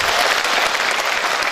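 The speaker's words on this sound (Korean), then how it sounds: "박수 한번 주시죠" A crowd of constituents applauds at a Jeonju Deokjin lawmaker's town-hall report meeting, a steady wash of loud clapping filling the whole short stretch with no pause.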